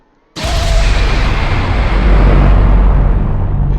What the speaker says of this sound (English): And now, the Ion Cannon. This one's really crazy.